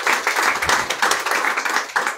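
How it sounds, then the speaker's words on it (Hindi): Audience at a business seminar breaking into dense, continuous applause, many hands clapping together in a loud, steady wash with slight swells, no talk over it. "जबरदस्त ताली मैम के लिए।"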